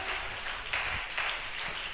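A church congregation at a Tamil Sunday service claps together in a dense, continuous wash of applause that swells slightly in places, heard from a moderate distance without any voices over it.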